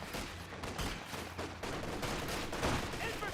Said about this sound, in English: MG34 does suppress down those conscripts.